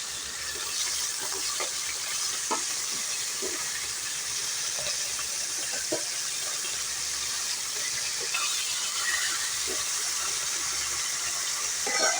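Pomfret fish rubbed with salt and turmeric frying in a pan, making a soft, steady hiss with scattered small pops and crackles throughout, fairly faint, with no voices over it.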